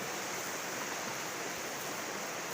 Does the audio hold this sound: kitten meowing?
no